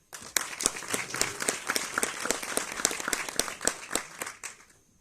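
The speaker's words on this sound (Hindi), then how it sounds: "तालियां हो जानी चाहिए।" Applause from an audience at a motivational speech rises quickly into sharp, rhythmic clapping, holds for several seconds, then fades out near the end.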